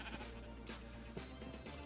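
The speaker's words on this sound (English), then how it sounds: "I'm trusting the sheep to give me directions" Sheep bleating in Minecraft, a few bleats over steady game ambience, near and moderately loud, during Cherry Blossom biome survival play.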